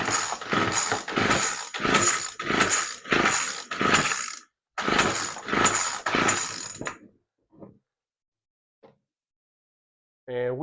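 A two-stroke string trimmer's starter cord is yanked repeatedly during a compression test, each pull giving a loud ratcheting whir in a steady series, followed by a pause and a few faint clicks.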